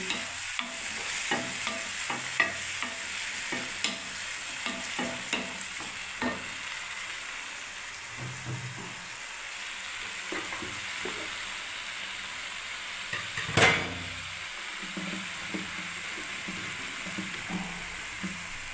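Chopped green chillies frying in a pan with tomato paste, a steady close sizzle with repeated scraping stirs of a utensil and a sharper clatter partway through, no voices.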